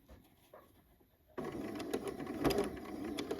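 A sewing machine stitches a 3/8-inch seam on a lace-trimmed mock neck bell sleeve top, starting up after a quiet second and running as a steady, close, continuous whir to the end.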